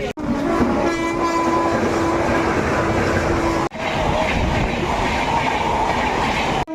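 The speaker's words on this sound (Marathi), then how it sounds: "इकडनं एवढी फास्ट एक्सप्रेस गेली" A fast express train roars past close by near Bhayandar station, Mumbai, loud and continuous with rattling wheels and a long sustained horn blast near the start.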